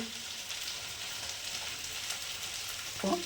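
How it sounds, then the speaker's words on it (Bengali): Okra, potato and onion frying in a pan, a continuous close hiss of sizzling oil that holds steady throughout, with a brief voice at the very end. "ভাজা করছি প্রায় হয়ে গেছে"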